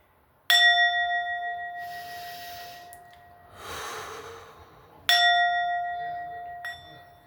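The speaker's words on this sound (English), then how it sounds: "I'm going to take a little moment to ring the bell so we can close our eyes" A single bell struck twice, each time a clear ring with a long decaying tone. Quiet breathing is heard in the pause between the two strikes.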